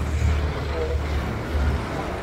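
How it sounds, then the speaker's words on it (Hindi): Dense road traffic in Gurgaon rushes past a moving scooter, a broad low rumble of cars, buses and trucks with swelling engine noise, mixed with wind. "गुड़गांव में ट्रैफिक ज़्यादा है"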